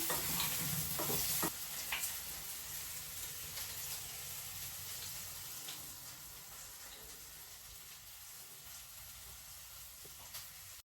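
Lentils fry in a pan on a home stove, a steady hiss and sizzle with scraping stirs, louder in the first two seconds and settling to a softer, continuous crackle.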